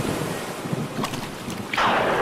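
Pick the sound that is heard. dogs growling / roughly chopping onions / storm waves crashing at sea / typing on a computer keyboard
storm waves crashing at sea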